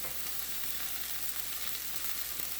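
Shrimp sear in a hot pan, a steady, soft crackling sizzle with fine popping, heard alone at low volume.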